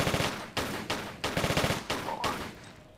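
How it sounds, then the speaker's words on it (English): Tomb Raider: The Last Revelation firefight, rapid gunshots fired in about six closely spaced bursts, loud and rhythmic with no voice over them. "I will stand here and exchange bullets with you as well."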